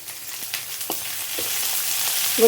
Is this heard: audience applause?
no